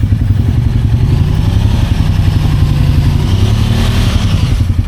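A small ATV on 32-inch Aztex tires with an XMR700 gear reducer churns through deep mud on a New Year's Eve trail ride, its engine droning steadily and loudly up close throughout, with a muddy clatter beneath.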